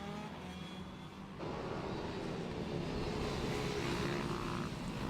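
Mini GP and Junior Supermoto 140-50 class motorcycles race down the back straight at a British Mini Bike championship round, a continuous high-revving engine drone that swells louder after the first second and stays steady and near to the end.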